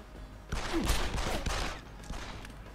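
Short bursts of enemy blind fire gunshots in Deus Ex: Human Revolution, a few clustered cracks over about two seconds at moderate level.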